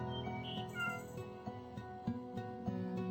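A cat meows a few times in the Secret Cat Forest video game, heard over a steady, soft musical background with gentle chimes.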